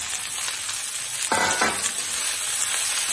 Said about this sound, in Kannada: ಈರುಳ್ಳಿ ಸ್ವಲ್ಪ ಚೆನ್ನಾಗಿ ಬಾಡಿಸ್ಕೋಬೇಕು